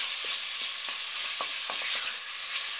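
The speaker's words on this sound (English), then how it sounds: "we're just going to quickly sear this and get it crumbled up" Sausage sears in a hot pan for a mushroom ragu, giving a steady sizzle broken by a few scraping, clicking spatula strokes as the meat is crumbled, close and fairly quiet.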